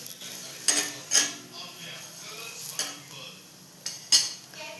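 A utensil scrapes and clinks against a pan greased with ghee while food is flipped over, giving a few sharp metallic knocks over a quiet background, close by and without speech.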